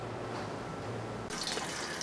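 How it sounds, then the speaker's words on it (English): Hot water at 170 degrees sprays from a small sparger onto a grain bed during all-grain brewing of an IPA, a steady hissing splash that brightens partway through. "here's my hot water at 170 degrees coming down into this little sprayer here, which is spraying on top of the grain bed"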